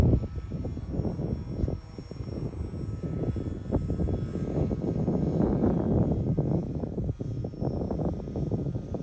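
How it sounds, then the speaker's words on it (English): Airplane flying overhead on a hot summer morning at a model glider slope, a steady engine drone that swells and fades at a moderate distance under a light breeze. "Another plane up there."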